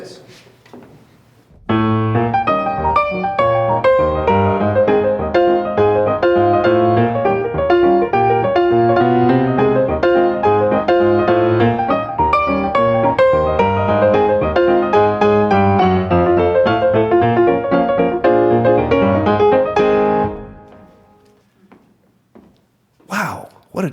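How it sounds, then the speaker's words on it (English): Ragtime piano tune played with syncopated right-hand rhythms over a steady bass, a loud, continuous, bouncy passage of about twenty seconds with no talking, fading out at the end. "With the syncopation, it sounds like this."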